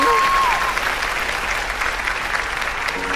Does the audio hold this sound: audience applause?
yes